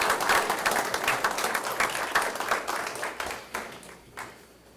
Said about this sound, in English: Can we get another big round of applause for our fire department?